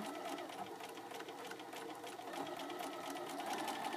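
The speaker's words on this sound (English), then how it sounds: "I lift up the edge of my foot, stick it down, and begin to sew again" A sewing machine stitching flannel fabric squares, a fast, even mechanical whir with a rapid needle rhythm running steadily and close throughout, no talking.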